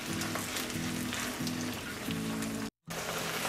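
Ground beef simmering in tomato sauce for a creamy lasagna filling gives a steady, close sizzle and bubbling crackle, with a brief dropout near the end before the sizzle resumes.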